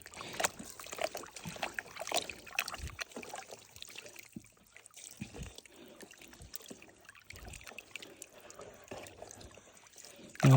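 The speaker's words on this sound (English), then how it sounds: "let's do the panning with the water now. Putting this material, making wet" Wet black sand being panned for fine gold, with irregular sloshing, trickling and pouring of water in a pan close by; a short louder burst closes it.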